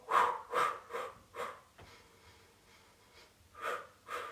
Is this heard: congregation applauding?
no